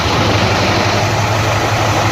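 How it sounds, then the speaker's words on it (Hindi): A Mahindra 575 tractor engine running at a steady idle, loud and close, with a constant low rumble and an even mechanical drone throughout, no talking. "इंजन की साउंड देखो कितनी बढ़िया है।"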